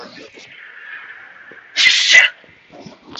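A single sharp, muffled sneeze bursts out close by, surrounded by faint breathy vocal sounds.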